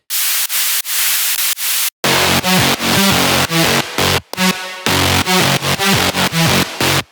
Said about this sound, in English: the last layer is just the hiss layer, which is just white noise